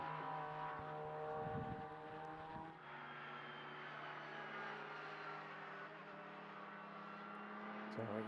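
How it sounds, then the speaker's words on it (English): Porsche race cars lapping the Mugello circuit during GT sprint qualifying, a continuous distant engine drone with steady harmonic tones that shift as cars pass, heard from trackside without talk. "So we can still hear some of the Porsches out there on the track as well."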